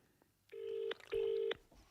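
Telephone keypad dialing to ring a pub: a couple of sustained dial tones, each ending in a click, sit close and clear over near-silence.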